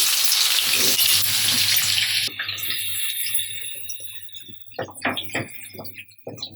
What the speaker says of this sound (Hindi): ये देखिए प्याज को लगभग 4-5 मिनट हो चुके हैं फ्राई होते हुए